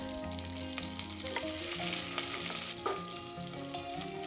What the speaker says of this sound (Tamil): இதை சேர்த்து நல்லா வதக்கி விட்டுக்கலாங்க.